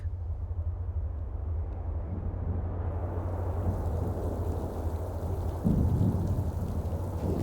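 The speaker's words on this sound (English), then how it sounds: "This storm has me in a frazzle." A thunderstorm with steady heavy rain and a low, continuous rumble of thunder that swells briefly near the end, with no voices.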